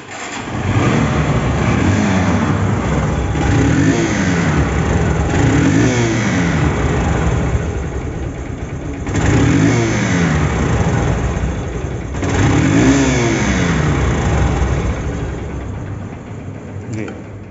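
A Honda SP Shine motorcycle engine revs up and down repeatedly, loud and close, its rough roar rising and falling with brief dips between throttle bursts.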